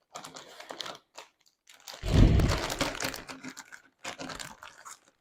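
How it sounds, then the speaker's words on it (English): A plastic bag crinkles and rustles in short bursts, with one louder crunching handling moment in the middle, close up and alone. "If I can open this bag."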